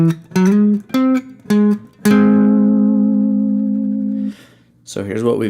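An electric guitar plays part of the solo from a song: four short picked notes in a quick rhythm, then one long sustained ringing note that slowly fades, followed by a brief jangling strum at the end.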